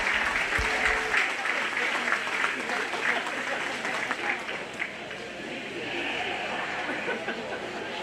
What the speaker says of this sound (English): Why don't we go ahead and reward them with a big round of applause.